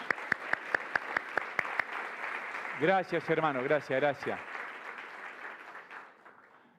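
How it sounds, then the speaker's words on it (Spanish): A church congregation applauds in welcome, starting with a few sharp separate claps before a dense wash of clapping; someone speaks over it partway through and the applause then fades. "Le damos un aplauso de bienvenida a los hermanos."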